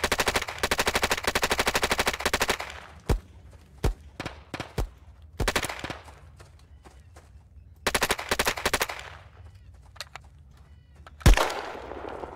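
Gunfire in the video game Will To Live Online: rapid machine-gun bursts alternate with sharp single shots and short pauses, loud and close, with no talking.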